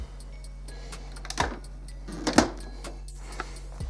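An Epson Expression Home XP-452 printer lid is lowered with a couple of soft plastic thumps and clicks over a steady low machine hum, close by.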